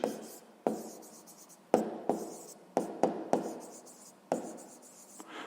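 Pen scratching on paper while working a sixth-grade maths exercise, close and quiet, in short strokes with sharp taps between them.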